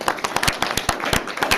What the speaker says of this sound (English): Give a round of applause here.